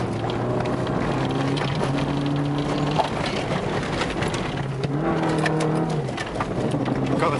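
A race car engine drones steadily from inside the cockpit at Motocana, its pitch holding, dipping and climbing through gear changes, loud and continuous with no talk.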